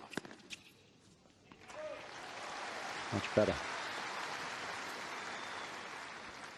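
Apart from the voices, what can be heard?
tennis crowd applauding at Australian Open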